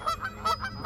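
Geese honk repeatedly in a loud, overlapping chorus of nasal calls, coming in quick irregular bursts close by.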